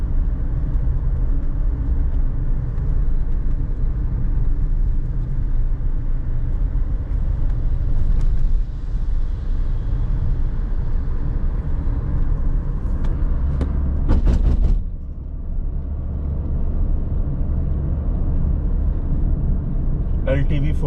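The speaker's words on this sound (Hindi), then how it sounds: "ये देखें ना, हैवी ट्रैफिक है" Heavy road traffic on the Islamabad–Lahore motorway through the Salt Range near Kallar Kahar, a steady loud low rumble of passing cars and trucks heard from inside a moving vehicle, with someone talking over it.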